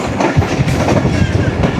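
The Pak Business Express passenger train runs on the rails in Pakistan, with a continuous near rumble of wheels and carriages rattling and clacking over the track.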